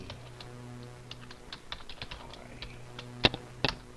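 Light clicking keystrokes on a computer keyboard as code is typed, irregular taps with a couple of sharper, louder key hits near the end, close and alone over faint background hum.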